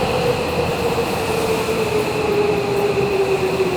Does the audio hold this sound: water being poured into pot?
no